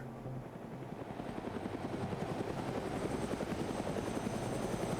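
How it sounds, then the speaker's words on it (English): A Huey helicopter flies in a multiplayer video game match, its rotor producing a steady rapid thumping chop over a low engine drone, fairly close and building slightly louder, with no talk. "Independent's using that Huey to kind of scout this ridge out"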